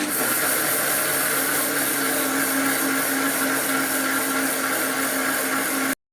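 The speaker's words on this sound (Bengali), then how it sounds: "এখানে মিক্সিতে বাড়ছে, তোমরা শুনতেই পাচ্ছ" An electric mixer grinder grinding soaked rice into paste for village-style pitha, a loud, steady whirring hum that runs without a break and then cuts off abruptly.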